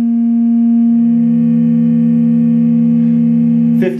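A synthesizer oscillator holds a loud, steady, buzzy tone with strong harmonics for nearly four seconds before it cuts off with a brief click.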